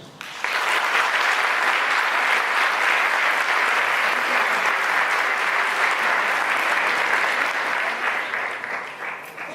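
An audience applauding at a charity solidarity week event, a sudden burst of loud, dense clapping from a large crowd that holds steady for several seconds before tapering slightly.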